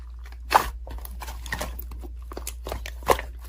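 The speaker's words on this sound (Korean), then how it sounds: "배고픈데 핫도그 먹어야지. 냠냠." Someone bites into a crunchy hot dog and chews, with two sharp crunches about two and a half seconds apart and softer chewing between them, close up over a low steady hum.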